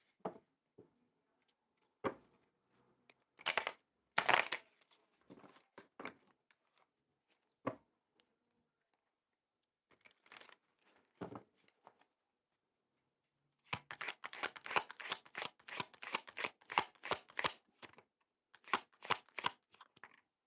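Tarot cards being handled and shuffled close up, with scattered snaps and slides early on, then a rapid, dense run of riffling card flutters near the end, with no talk over it.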